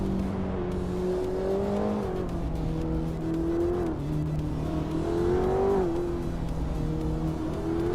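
A 1994 Bugatti EB110 LM in a racing video game: a steady, loud engine drone with rising and falling pitch as it shifts through gears, continuous throughout with no talk.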